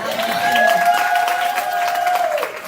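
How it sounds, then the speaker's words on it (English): An audience applauds educators at an empowerment tea workshop, with a crowd clapping and cheering. A sustained tonal whoop or voice rings out over the clapping before the sound tapers off. "Y'all clap it up for the educators."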